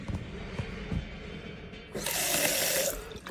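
Water runs through a garden hose feeding a bidet sprayer in an off-grid outhouse, a steady rushing hiss surging up after a few faint clicks and knocks, close and fairly loud, with no talking.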